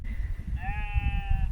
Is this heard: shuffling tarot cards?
no